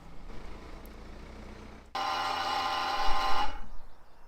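A car's ABS pump, actuated through a Bluetooth OBD2 scan tool, starts abruptly with a loud, steady electric buzzing whir. It runs for about a second and a half, then cuts off, leaving a low hum.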